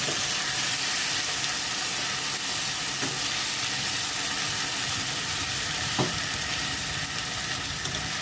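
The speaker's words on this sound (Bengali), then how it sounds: "এখানে আদা, রসুন, শুকনো লঙ্কা আর হলুদ বাটা আছে, আমি দিয়ে দিলাম" A paste of ginger, garlic, dried chilli and turmeric fries in hot oil with a steady, dense sizzle, broken by a couple of faint stirring knocks.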